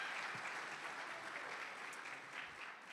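An audience at an annual achievement night dinner gives a round of applause, steady dense clapping heard at a modest distance and holding throughout.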